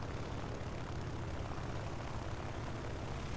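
Steady, droning WWII fighter engine noise during a video game air battle, a constant low rumble with propeller hum, unbroken and fairly loud with no talk.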